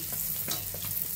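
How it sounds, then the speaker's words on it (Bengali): Rice-flour pitha cakes fry in hot oil with a brief, faint, continuous sizzle and light popping bubbles, heard close up and alone. "ভাজার জন্য তেলে দিয়ে দিচ্ছি"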